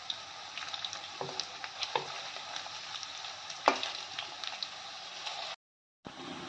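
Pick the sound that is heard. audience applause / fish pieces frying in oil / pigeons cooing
fish pieces frying in oil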